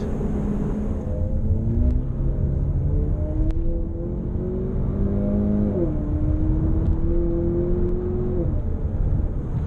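Turbocharged four-cylinder 2016 Chevy Camaro exhaust revving, a loud, close droning wail that climbs in pitch, drops at a shift and climbs again, with a few faint clicks and no talking.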